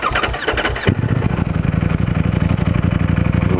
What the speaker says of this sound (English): Turn the bike on.